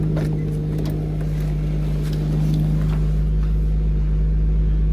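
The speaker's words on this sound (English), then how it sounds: "It's holding a nice idle, no codes." A boosted Infiniti G37 with a six-speed manual sits idling, its engine a steady, even low hum that holds unchanged from start to finish with no voices over it.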